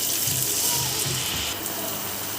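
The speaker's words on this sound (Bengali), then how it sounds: "এবার দিয়ে দেব একটু পানি।" Water pours continuously into a cooking pot holding onions, chillies and ginger-garlic paste, making a close, steady splashing gush.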